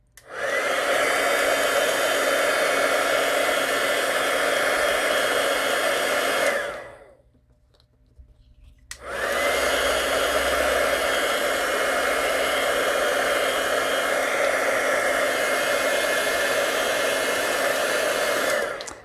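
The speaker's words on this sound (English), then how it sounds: "I need to use my heat tool and heat set all those colors so that they're dry" A heat embossing tool blows hot air to dry colors, a loud steady whooshing roar that switches off for about two seconds midway, then resumes at full strength.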